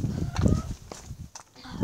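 A Faverolles hen among farmyard chickens gives a few short, soft clucks within a brief moment, with a low rumble of background noise.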